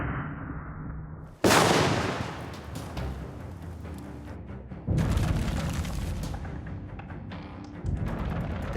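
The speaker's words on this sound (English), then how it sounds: "The cannon is charged, the crew ready. Time to fire the chain shot." A ship's cannon fires chain shot in a naval battle, several heavy booming blasts with rumbling decay, the first a sudden loud crack after a quieter stretch, followed by further thunderous discharges.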